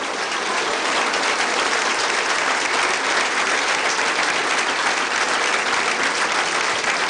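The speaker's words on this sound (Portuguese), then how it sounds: "Muitas mulheres de pé na sala, nesta altura, a aplaudir António Costa." Sustained, dense applause from a large crowd filling a hall at a Portuguese election speech by António Costa, steady and loud throughout without pause.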